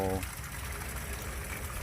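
A Summers DC 12 V solar-powered water pump runs, feeding a small waterfall, giving a constant gushing, splashing water sound at low level beneath someone talking.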